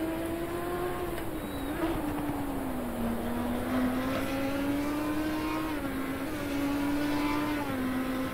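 A BMW race car in the racing game Assetto Corsa Competizione drones with a steady, humming engine note that rises and falls slightly at sustained revs, continuous and smooth throughout.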